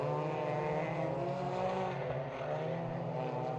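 Ford Fiesta ST race cars circle the Knockhill circuit, a dense continuous engine drone with layered revving tones from several cars, loud and sustained with no pauses.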